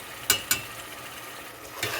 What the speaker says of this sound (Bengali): আমার মশলাটা দেখুন সুন্দর করে ভাজা ভাজা হয়ে গেছে এবং মশলা থেকে তেল বের হয়ে গেছে